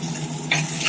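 Curry leaves frying in oil in a pan for a fish curry, a steady close sizzle with a brief brighter crackle midway through the short moment.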